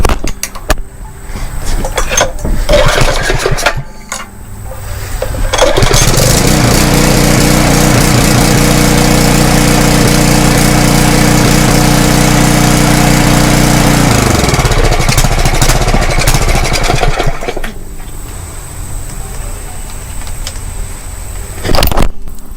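A small four-cycle pressure washer engine is cranked with some clattering, then catches and runs at a loud, steady roar for about twelve seconds before shutting down, with handling noises after.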